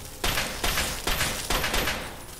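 A Chinese pistol in Fallout 3 fires in sharp, loud shots, about five evenly spaced in quick succession, close and punchy.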